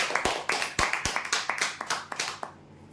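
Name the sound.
applause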